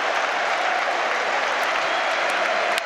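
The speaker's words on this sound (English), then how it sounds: "really does deserve the standing ovation" Football crowd at Stamford Bridge giving a standing ovation during Chelsea's 5-1 win over Sunderland, sustained loud applause and cheering from a large stadium audience, even and continuous across the moment.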